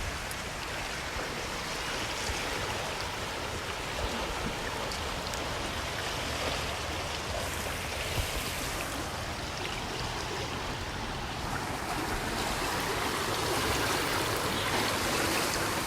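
Fast-flowing water of the flooded Ghaggar river rushes steadily and loudly without pause, a dense continuous roar close by with no talking.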